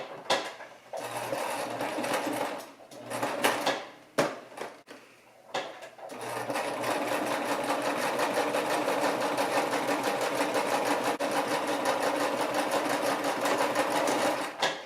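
A sewing machine stitches pieces of fabric for a baby hat, first in short stop-start bursts, then running steadily in a fast, even whir for the last several seconds, close and moderately quiet.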